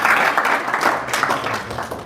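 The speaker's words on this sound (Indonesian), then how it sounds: "Tepuk tangan dulu buat Tuhan" A youth congregation at a church retreat in Jimbaran claps together, a dense burst of applause that lasts throughout and slowly thins.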